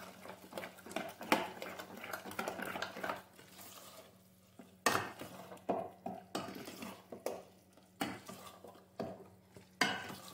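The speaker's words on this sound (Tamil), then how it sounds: "ஊற்றிட்டு இதை நல்லா கலக்கி விடுங்க." A spoon stirs rava batter mixed with water in a bowl, giving a run of wet scraping and clinking strokes that come in quick uneven bursts, close and moderately loud.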